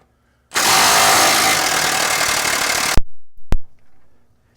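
A pneumatic impact wrench works on crossmember bolts under a vehicle during a transmission removal, reaching in at an awkward angle near the exhaust. One loud, steady burst of about two and a half seconds, then a few short sharp bursts, with no talking.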